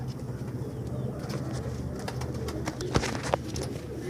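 Pigeons at a pigeon market coo softly and repeatedly at close range, a low burbling murmur with a few sharp clicks and rustles.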